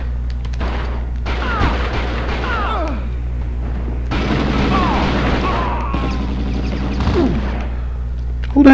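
Gunfire aimed at the player in a PS2 action game, a run of sharp shots and booms in two main bursts with sporadic cracks between, loud and close, no talk.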